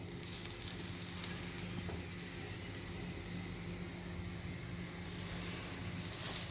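A paneer methi paratha sizzles steadily on a hot pan just after being flipped, a continuous close frying hiss with faint crackles and no talk.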